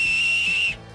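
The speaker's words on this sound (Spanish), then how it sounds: "¿El silbato lo llevabas?" A single sharp whistle blast, loud and steady for most of a second before cutting off abruptly, with no voices over it.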